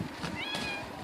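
Cat meowing indoors during a winter storm: one short, faint, drawn-out meow in the middle, heard over a low background hum.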